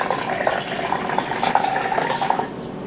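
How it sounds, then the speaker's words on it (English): Cold water pours steadily into a cup while making Independence Day popsicles, a close, continuous splashing trickle that lasts a few seconds with no talking. "So I'm gonna put in the cold water."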